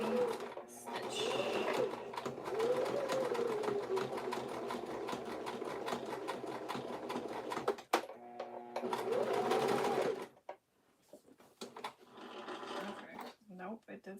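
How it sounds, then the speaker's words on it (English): A sewing machine re-stitching a fabric headband runs in steady, close, rapid stitching bursts, stopping briefly and then resuming before it ends in scattered clicks and handling noises, with a person talking over it. "since we don't top stitch this part, I'm gonna re-stitch."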